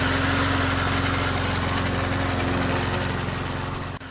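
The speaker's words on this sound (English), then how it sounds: "I hear it every time my new Toro Z-Master 4000 Zero Turn starts up" A Toro Z-Master 4000 zero-turn mower engine runs with a steady, close, droning hum at even volume, then drops off sharply right at the end.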